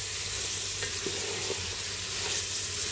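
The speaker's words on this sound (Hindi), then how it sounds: "अनियन फ्राई कर रही थी" Onions sizzle in a hot pan, a steady dense crackle running unbroken throughout, fairly loud and close with no one talking.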